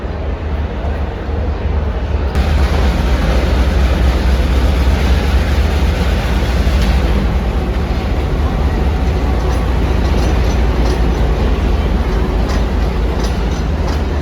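A train pulls in at Lahore Junction railway station platform 2. Its rolling clatter and rumble build loud and close, with a hiss running through the whole stretch and no voices over it.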